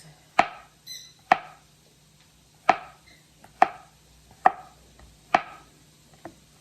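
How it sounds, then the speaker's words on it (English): Mushrooms thinly sliced with a knife on a cutting board, six sharp separate knocks of the blade on the board at uneven intervals, close and clear with quiet gaps between them. "I'm going to thin slice these."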